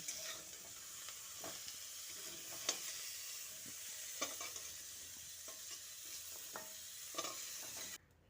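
Cauliflower florets fry quietly in a pan while being stirred until lightly browned, a soft steady sizzle broken by sharp scraping strokes of the spoon every second or so.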